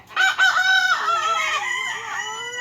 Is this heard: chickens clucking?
yes